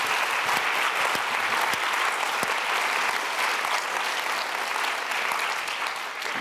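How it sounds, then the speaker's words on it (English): Sustained audience applause after a luminary lecture on health, dense and even throughout, a steady wash of many hands clapping at close range with no voices standing out. "So I think a second round of applause for that."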